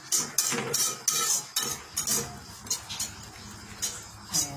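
Noodles with a pinch of salt being stirred in a bowl, utensil clinking and scraping against the sides in a quick, irregular rhythm of close, light taps with no talking.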